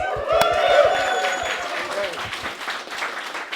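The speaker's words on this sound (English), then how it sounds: "Come on, make some noise. Round of applause." An audience at a careers fair claps loudly, a dense burst of clapping with a few sharp claps at the start and voiced whoops or cheers mixed in. It tapers slightly but continues throughout.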